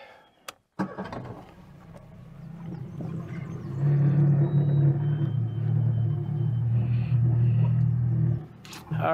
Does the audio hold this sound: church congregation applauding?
no